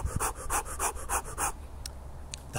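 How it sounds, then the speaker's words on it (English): Rapid, forceful fire breathing by a person cycling in the countryside, a quick run of about nine sharp rhythmic exhales, then a pause with a couple of faint breaths near the end. "I'm going to be doing fire breathing"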